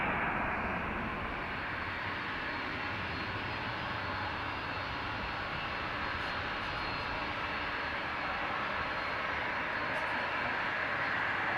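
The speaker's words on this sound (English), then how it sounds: "We will turn the microphone round for the DL155 to Boston, so headphone warning for the next departure." Delta flight DL155, a jet departing Dublin Airport for Boston, its engines a sustained heavy roar that stays steady and loud from start to finish, with no voices over it.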